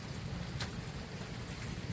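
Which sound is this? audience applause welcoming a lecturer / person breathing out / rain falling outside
rain falling outside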